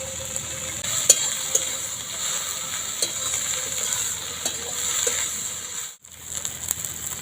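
Okra and egg with turmeric, cumin and coriander spices sizzle steadily in a frying pan while being stirred, with scattered scraping clicks of the spoon over continuous crackling and a brief pause near the end.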